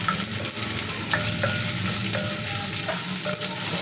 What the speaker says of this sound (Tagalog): gisa-gisa lang po natin